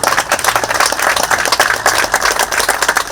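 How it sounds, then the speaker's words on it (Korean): Loud, dense audience clapping fills a memorial ceremony honoring a Korean general, with sustained sharp claps that continue evenly without pause. "우리 백선기 군수님을 다시 한번 박수 한번 부탁드리겠습니다"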